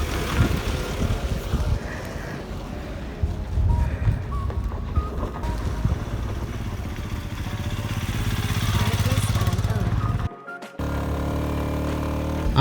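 A Royal Enfield Classic 350 motorcycle riding along a tar road in Ladakh, its engine droning steadily under heavy wind rush, with a brief cut to quiet near the end before the noise resumes.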